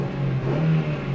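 A car engine turns over and revs, a steady mid-pitched drone that swells briefly in the middle before settling, heard up close with no talking.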